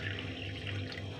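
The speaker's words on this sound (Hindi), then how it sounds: "इधर से पानी ले लेती हूँ पहले, पानी की प्यास लग रही है बहुत तेज़ वाली" Water runs steadily from a tap into a glass in a home kitchen, a continuous close hiss and gurgle with no pauses and no voices.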